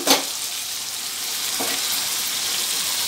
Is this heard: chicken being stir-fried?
yes